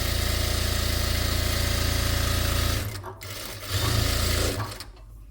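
A sewing machine runs steadily while stitching the seam of a child's skirt sewn from leftover fabric. The loud motor whir holds for nearly three seconds, then cuts out, restarts briefly and stops, leaving quieter handling noise.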